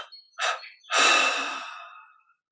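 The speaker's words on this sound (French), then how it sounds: "on expire en trois fois par la bouche" A person exhales through the mouth three times during breathing for guided meditation: two short close puffs, then a long, loud, airy breath out that trails off into silence.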